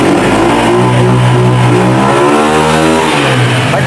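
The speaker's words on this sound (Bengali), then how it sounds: "সেলফে চাপ দিছি গাড়ি স্টার্ট" A used motorcycle in tip-top condition starts up and revs hard, a loud, close engine roar that rises and falls in pitch with the throttle, with no talking.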